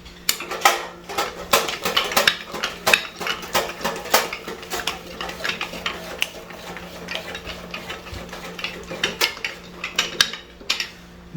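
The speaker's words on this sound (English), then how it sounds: "we're gonna start slicing the potato" A WICHEMI commercial slicer machine cuts a potato into fine, thin slices, giving a dense run of sharp, close clicks and clacks in a fast, uneven rhythm for about eleven seconds, loud and with no talking.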